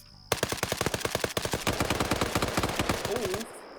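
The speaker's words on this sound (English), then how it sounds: "Falcon heard that gunfire" Rapid automatic gunfire from a competitive first-person shooter match, a long burst of sharp close shots in quick regular rhythm that merges into denser overlapping fire before cutting off.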